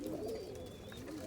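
Young pigeons coo softly, giving one low, rounded call against a quiet background with no talking.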